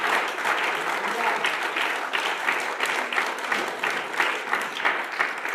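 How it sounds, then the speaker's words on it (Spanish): A church congregation applauds during a sermon, a steady round of clapping with individual claps audible throughout, moderately loud and sustained for several seconds. "Denle un aplauso fuerte a la presencia de nuestro Dios."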